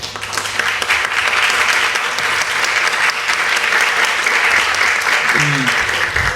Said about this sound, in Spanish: me gustaría quizás la salva de palmas al maestro Diego Puertas.